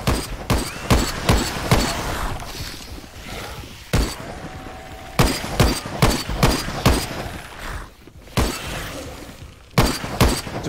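Rapid bursts of gunfire pour into a boss in Dead Frontier 2, loud sharp volleys repeating in clusters with brief pauses between them.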